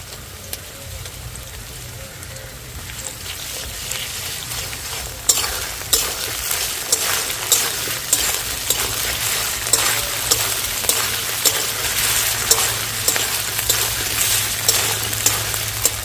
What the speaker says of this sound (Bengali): এর মধ্যে দিয়ে দিচ্ছি আদা বাটা